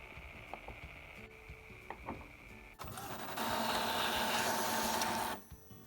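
An Epson EcoTank ET-2850 inkjet printer runs a test page, starting with scattered clicks and short mechanical whirs, then a steady, loud rush of print-head and paper-feed motor noise for a few seconds before stopping abruptly.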